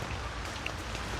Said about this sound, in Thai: แถมฝนตกละรออยู่